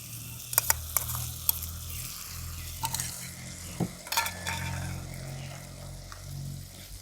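Ginger and chili paste frying with softened onion and tomato in a pan: a low, steady sizzle runs underneath, broken by a handful of spoon clinks and scrapes as the mixture is stirred, with no voice.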